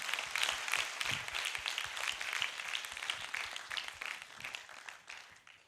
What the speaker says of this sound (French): Dominique, applaudissements nourris.